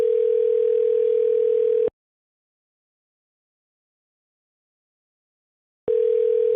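A telephone ringback tone, a steady single-pitch tone that cuts off, stays silent for about four seconds, then sounds again while the call goes unanswered.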